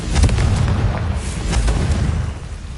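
Confringo blasting spell detonating in Hogwarts Legacy, a loud, deep booming explosion with rumbling low-end that rolls on for a few seconds, with no voices.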